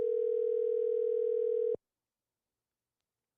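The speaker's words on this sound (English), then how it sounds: "let's call Miss K" A steady telephone dial tone hums loud and unbroken for under two seconds while a call is being placed, then cuts off abruptly into silence with a faint click at the end.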